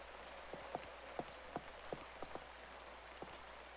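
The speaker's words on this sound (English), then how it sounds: "And it's raining." Steady soft patter of video game rain with scattered louder drops tapping a surface, fairly quiet and even throughout, with no voices.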